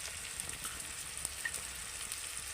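Chopped tomatoes with a spoonful of salt sauté in a pan for a vegetarian okra (bhindi masala) curry, giving a soft, steady sizzle with a few faint crackles and no talking.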